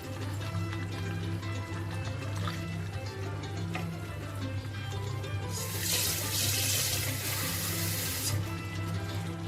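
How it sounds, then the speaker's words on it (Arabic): Hot water pours into a pot of Moroccan chicken with onions, a steady close-up splashing stream that swells louder midway, then eases off, with no talk. "كنضيفوا الماء سخون باش"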